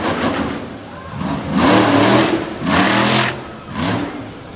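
A monster truck with a Chevrolet Silverado body revs hard at a monster truck event in Bloomsburg, PA, giving three loud swelling engine roars with pauses between them, heard at a distance over crowd noise.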